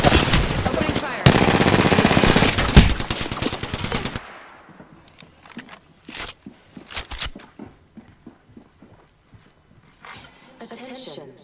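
Rapid automatic gunfire in the Apex Legends video game, a loud close burst lasting about three seconds, then cut off and followed by scattered single shots and clicks.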